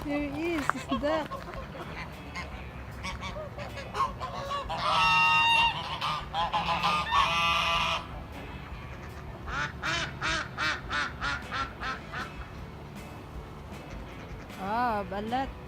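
Ducks at Farmington Pond, Utah, honk and quack in bursts, some loud and close, with a quick run of rhythmic calls, while people talk over them.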